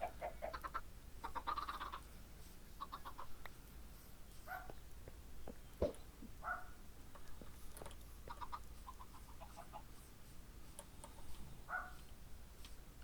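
Baby chickens in a blocky video game cluck and chirp in short, scattered bursts over a steady low background hum, several calls spaced across the stretch.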